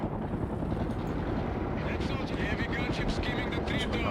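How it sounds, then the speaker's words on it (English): A Mi-24 heavy helicopter gunship in the game World in Conflict, a steady rumbling rotor and engine drone held at an even level, with faint higher tones creeping in toward the end. "Mi-24 on the way. Heavy gunship will follow the flight."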